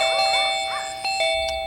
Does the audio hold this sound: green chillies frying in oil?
no